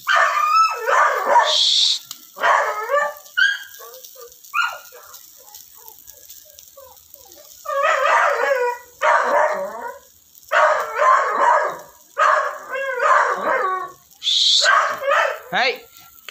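Dogs bark noisily in repeated bursts of yips and barks with short pauses between them, close by in an outdoor yard where a chicken is nearby.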